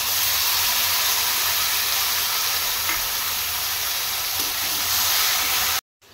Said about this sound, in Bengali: একটু ভাজা ভাজা হয়েছে আর দিয়ে দিচ্ছি আমি এখানে একটা গোটা টমেটোর পেস্ট।